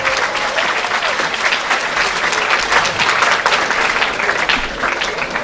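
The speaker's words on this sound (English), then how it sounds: "Please, can we clap for her?" Loud, sustained applause from a large crowd, steady clapping throughout with no one speaking over it.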